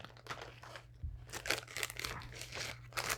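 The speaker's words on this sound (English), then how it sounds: "It's a plastic resealable package for the manual" A plastic resealable package holding the manual for an E-flite V900 sport airplane is handled up close, with a string of crisp crinkles and crunches rising and falling over about three seconds, and no voices.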